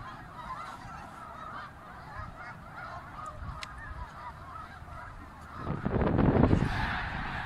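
A huge gathering of snow geese in Québec honks continuously in a dense, far-off cacophony, swelling louder near the end as more birds arrive.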